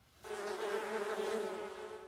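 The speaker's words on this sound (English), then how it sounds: "A buzzy bee" A bee buzzes loudly and steadily for about two seconds, a continuous close drone that starts abruptly and stays even with no other sounds.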